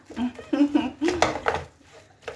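Cooked potatoes and butter being stirred in a pot, with a few light scrapes and clinks of utensil against the pan under a person speaking French.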